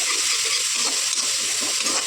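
Steady sizzling of an Indian tempering (tadka) with turmeric in a hot pan, with soft scraping as it is stirred, continuous and close, with no voices.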